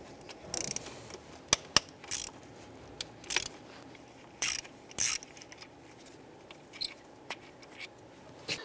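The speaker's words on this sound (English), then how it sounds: "Go ahead and remove our 2 8mm bolts holding the fuel rail in place." A ratchet clicks in quick bursts, removing 8mm fuel rail bolts on a 2002–2008 Dodge Ram, with short bursts of clicking separated by pauses and a few sharp clinks, fairly quiet and close.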